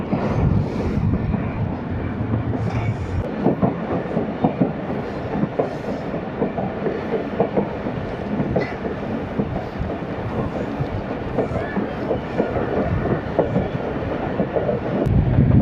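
A Dera Ghazi Khan shuttle train passes close by, loud and continuous, with steady rumbling and rattling wheels throughout.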